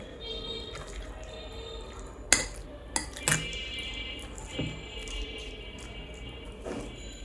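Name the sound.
lid being placed on a pot of marinated chicken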